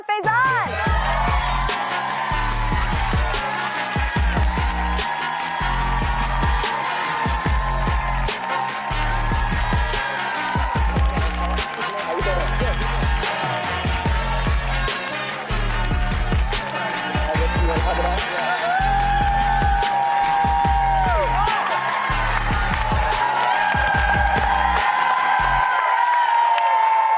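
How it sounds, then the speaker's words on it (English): Studio audience cheering, whooping and applauding as Donald Faison walks out on the daytime talk show The Talk, a steady crowd roar over a loud, thumping band beat throughout. "I knew I was going to get applause."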